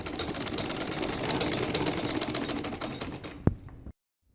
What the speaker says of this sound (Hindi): अब मैं मशीन की इसको सिलाई लगा रही हूँ। ये देखें, मैं शलवार की चुनटों को सिलाई लगा रही हूँ।